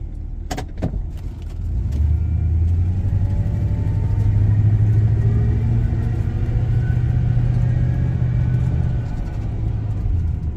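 Steady low engine drone of a car driving on the road as its automatic transmission shifts gears, the pitch rising and settling through the shifts under constant road rumble, with a couple of sharp knocks near the start.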